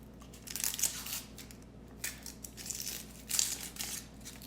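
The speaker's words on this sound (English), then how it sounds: "peel out that offside or the outside of the onion" Dry crinkling and crackling as the papery outer skin is peeled off an onion in a kitchen, coming in short close bursts with brief pauses between them.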